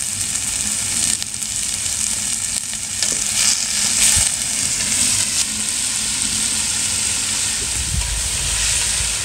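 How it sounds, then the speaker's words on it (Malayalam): Chopped onions sauté with a pinch of salt in a hot pan while a mussel dum biryani is cooked, giving a loud, steady sizzle and crackle with occasional stirring scrapes and no talk. "അപ്പോൾ നമുക്ക് അങ്ങോട്ട് ഒനിയൻ ഇട്ട് കൊടുക്കാം"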